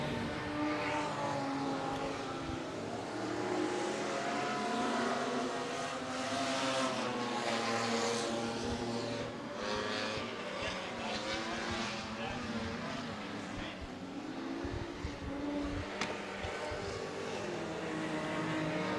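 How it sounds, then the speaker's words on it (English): A big V8 Super Stock race car roars at Rockhampton Speedway, with a continuous loud engine drone from several cars circling the track and pitch shifting as they pass. "The big V8 of car 63."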